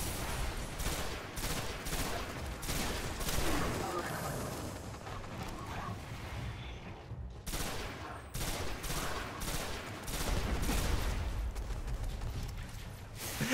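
Rapid bursts of gunfire from the video game Destiny repeat almost continuously, with short pauses between volleys and a dense, loud texture, apparently under a voice.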